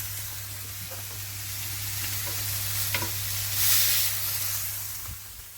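A rare steak set down on a hot plate gives off a soft, steady sizzle and hiss under a low mains hum, with a few faint clicks and a brief louder burst of spitting.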